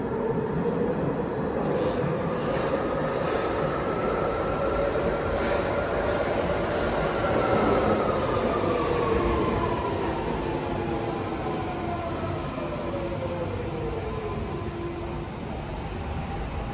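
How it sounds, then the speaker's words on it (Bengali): A fast train approaches on a London rail line near Bethnal Green and Mile End. A loud, continuous rumble carries a whining tone that bends gradually downward as it nears and passes, with no talk. "এখন ট্রেন এসে পড়বে। দেখেন এই রাস্তায় আসতেছে"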